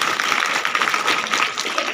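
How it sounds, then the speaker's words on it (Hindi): Loud, steady applause from a school audience at a motivational program, a dense wash of clapping hands filling the full two seconds without pause. "जोरदार ताली बजाओ"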